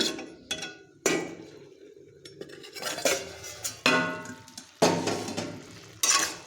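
A metal lid is set and shifted on a pot of cabbage curry, giving a handful of sharp clanks and rattles with short ringing tails, close and clear, with no voices.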